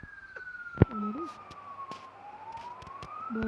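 A police car siren wails in a slow rising and falling sweep, faint and distant, approaching under scattered thumps and brief sounds in a game scene.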